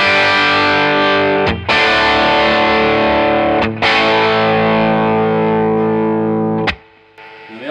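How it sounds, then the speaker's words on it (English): A heavily distorted Eastman SB59 electric guitar roars through the drive channel of a Mesa Boogie Express 5:50 amp, loud sustained chords restruck three times with brief scratchy breaks, fading at the end. "and the drive channel sounds like this."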